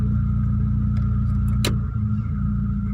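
Idling car engine with a 4G92 motor, shifted into drive with the brake held, giving a steady low hum with a brief click partway through as the gear engages.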